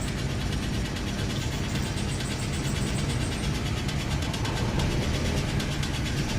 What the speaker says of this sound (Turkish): Arabanın rolantisi falan baya bir bozuldu.